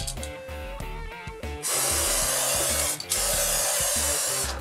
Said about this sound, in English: I'm trying to stay about a hand width away from the guitar body